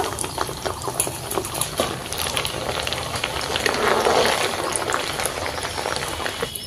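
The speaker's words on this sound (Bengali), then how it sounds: "তেলটা গরম হওয়ার পর কিছুটা ডাল দিয়ে দিচ্ছি ভেজে নেওয়ার জন্য" Chana dal frying in hot white oil in a kadai, a dense bubbling sizzle that swells and crackles loudly midway, close up and continuous without speech.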